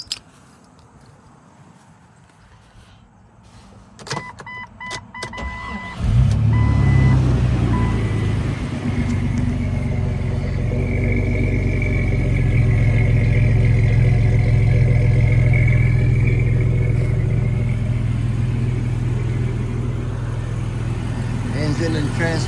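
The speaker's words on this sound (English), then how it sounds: "Engine and transmission run just fine." A 2001 Jeep Cherokee XJ with a 4.0 engine, Banks header and MSD ignition starts up after a few clicks and settles into a loud, steady running rumble, with someone talking over it.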